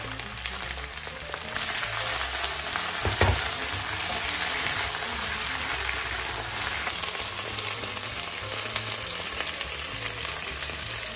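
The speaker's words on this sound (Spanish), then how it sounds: "Vamos a esperar que se dore nuestra patata con la cebolla, que esté bien dorado." Potato and onion frying in a pan with a steady, moderate sizzle and crackle, one brief stir or clatter partway through, no voices.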